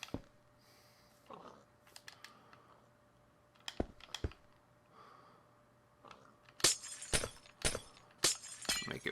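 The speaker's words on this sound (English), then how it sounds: "I'm going to make a wall out of glass." Glass blocks are placed in Minecraft with sharp, brittle clicks and clinks, sparse at first and then coming in quick clustered bursts over a faint steady hum.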